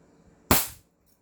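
A single sharp report from an upgraded 1911-style airsoft pistol firing one shot, loud and close with a quick decaying tail, preceded and followed by near silence.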